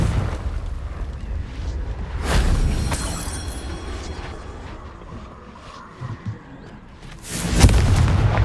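Fire-spell explosions in the video game Hogwarts Legacy, loud booming bursts around two and three seconds in, then another heavy blast near the end over a rumbling game soundscape.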